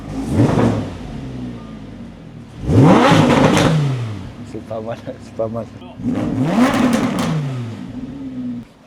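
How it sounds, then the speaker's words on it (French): Lamborghini Huracan Spider supercar engine revving hard in three loud bursts, each rising and falling sharply, with someone speaking French between the revs. "C'est un bruit de Huracan."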